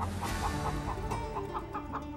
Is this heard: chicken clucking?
yes